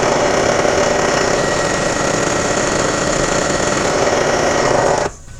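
A drill press hums and grinds steadily as it spot drills metal for tap wrench jaws, a continuous close mechanical drone that cuts off abruptly near the end.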